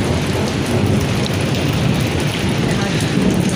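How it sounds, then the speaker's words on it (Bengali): Heavy village downpour drumming steadily and loudly, with low rolling thunder rumbling beneath the dense hiss of rain throughout. "বিশাল বড় বড় বজ্রপাত হচ্ছে,"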